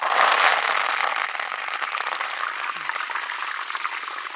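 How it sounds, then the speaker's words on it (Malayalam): Curry leaves crackle and sizzle loudly in hot oil, with a dense burst of spattering at first that settles into a steady, close frying hiss. "ഇനി നമുക്ക് ചൂടായ എണ്ണയിൽ കുറച്ച് കരിവേപ്പില ഇട്ട് പൊരിച്ചെടുക്കാം"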